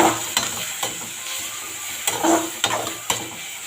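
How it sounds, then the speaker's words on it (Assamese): Ginger garlic paste fries in a pan, a continuous loud sizzle punctuated by sharp scrapes and taps of a spatula stirring it close up. "আদা নহৰুখিনি কেঁচা গোন্ধটো নোযোৱালৈকে মই ভাজি লম"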